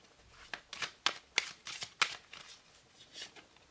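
Tarot cards being shuffled up close, a quiet run of crisp riffling and flicking bursts over a few seconds, with no talking.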